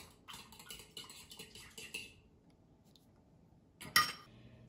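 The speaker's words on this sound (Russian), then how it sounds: "Все это я взбиваю." Eggs whisked with pink Himalayan salt and ground black pepper, giving about two seconds of quick, rhythmic clicking against the bowl, then a pause and one sharp clink near the end.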